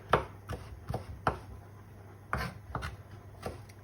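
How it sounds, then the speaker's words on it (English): A knife chops finely through vegetables for a stir-fry sauce on a cutting board, giving about eight crisp, separate taps in an uneven rhythm. The sound is close and quiet, with no talking. "I'm just going to run my knife back through. So cutting it all up."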